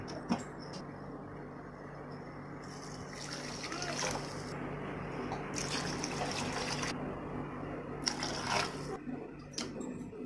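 Water poured into a cooking pot of rice with mint leaves and stirred in, a steady trickling, splashing flow that runs continuously at close range with louder surges partway through and a faint background hum.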